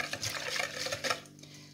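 A spoon stirs bread dough ingredients in a bowl, a quick scraping swirl for about a second before it trails off into quiet.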